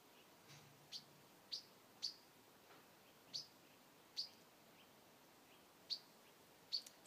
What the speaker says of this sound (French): l'amour pour le chant de cet oiseau